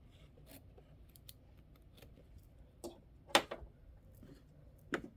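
Scissors trimming quilt block fabric for a flying geese block, a few quiet, sparse snips and clicks against a soft background, with the sharpest cuts toward the middle and end.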